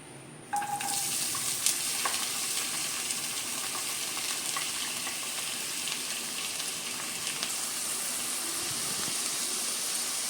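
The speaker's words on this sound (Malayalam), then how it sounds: "ഓയിൽ ചൂടായി കഴിയുമ്പോൾ സവാള ഇടാം." Chopped onions hit hot oil in a pan and sizzle at once while an egg roll filling is started, a steady bright frying hiss that holds for about ten seconds with no talk.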